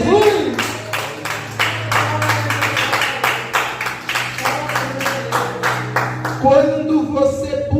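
A church congregation claps in a steady rhythmic beat, many hands together, continuing for several seconds over a sustained musical tone.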